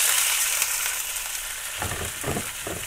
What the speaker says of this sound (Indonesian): Goreng bawang putih sampai kekuningan, jangan sampai kecoklatan ya, nanti gosong.